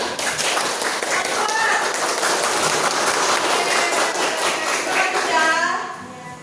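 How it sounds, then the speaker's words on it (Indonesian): A classroom audience breaks into steady, dense applause that holds evenly for several seconds before tapering off at the end. "Beri aplaus dulu buat"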